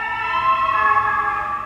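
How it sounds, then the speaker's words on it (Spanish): Ambulance siren heard from a stairwell, a steady high wailing tone with a slight rising bend, fairly loud and sustained, alone without voices. "Las ambulancias."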